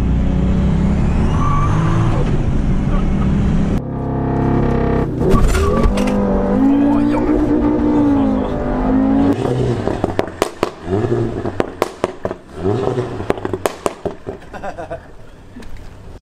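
A car shifts into third gear and pulls away at a small auto workshop yard, its engine loud and close, revving up and then fading, followed by a scatter of sharp pops and clicks.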